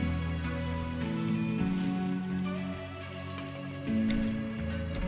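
Steady rain falls in the colony-building game RimWorld, a continuous soft patter sitting under looping game music with no voices.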